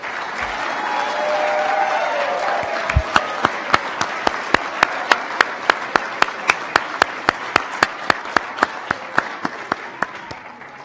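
Sustained applause for graduates at an Executive MBA graduation ceremony: dense, steady clapping from a large crowd, broken by a run of sharp, evenly spaced percussive hits through the second half.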